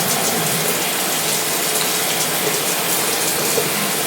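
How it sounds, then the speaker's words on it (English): Tap water runs steadily for face washing, a loud, close, continuous rush and splash with no break throughout. "I have to wash my face anyway"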